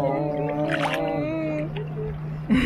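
A young child imitates a boat with a steady voiced humming drone, close and alone, during a family holiday by the sea in Corsica.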